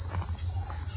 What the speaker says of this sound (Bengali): আমি কথা বলছি কন্টিনিউয়াসলি ঝিঝি পোকার ডাক শোনা যাচ্ছে।